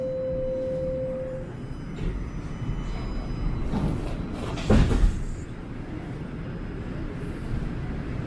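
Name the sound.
subway train doors closing at St. Clair Station, Toronto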